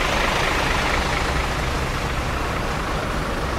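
Close, steady rumble of a Hino bus engine idling, a dense even noise with no variation.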